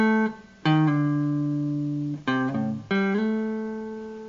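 A guitar plays a minor pentatonic lead phrase at speed, a few clean picked notes and slides ringing out with clear sustain, alone and close.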